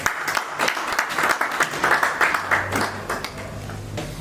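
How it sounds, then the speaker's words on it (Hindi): Audience applause for an honoree at a Forever Living Products achievers' event, a steady wash of many hands clapping with a few scattered voices underneath, continuous throughout. "जोरदार तालियां निर्मल जी के लिए।"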